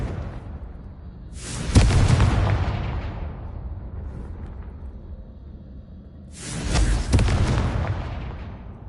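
Two loud explosive blasts from the Confringo spell in the Hogwarts Legacy video game, each a sharp broadband burst with a long rumbling decay, a few seconds apart.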